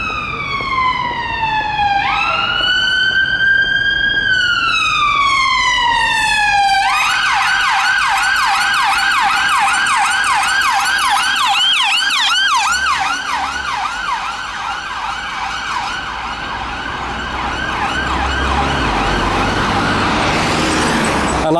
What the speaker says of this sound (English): we've got a siren coming.